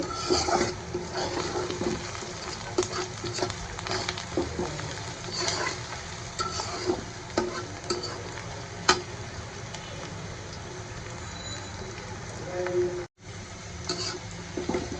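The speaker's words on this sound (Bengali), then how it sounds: "এখন আমি পেঁয়াজটা ভেজে নেব" Onions frying in a pan for a prawn bhuna, a steady sizzle throughout with frequent stirring scrapes and clinks, fairly close and moderately loud, with no talking.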